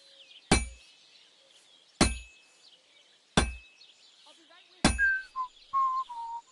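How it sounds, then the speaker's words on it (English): Blacksmith hammer striking hot metal on an anvil at a forge in Kingdom Come Deliverance 2, four sharp ringing clangs spaced about a second and a half apart, with brief whistling tones after the last strike. "I have to hammer it more evenly."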